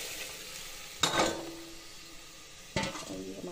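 Tadka of cumin seeds and garlic for arhar dal sizzles in a pan, flaring into two loud hissing bursts a couple of seconds apart, with faint stirring and light pan clinks between them.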